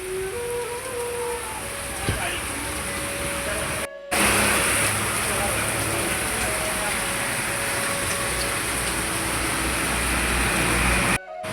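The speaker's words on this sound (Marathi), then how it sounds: "पाऊस पडतो एकदम जोरात" Heavy rain pours down in a dense, continuous hiss, with a faint engine hum and brief muffled sounds underneath.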